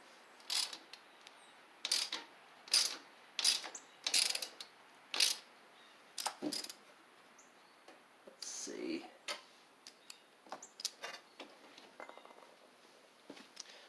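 Ratcheting clicks from a tool driving a T40 Torx screw back into a Poulan Pro (Craftsman) riding mower come in close, rhythmic bursts, with a faint voice in the background.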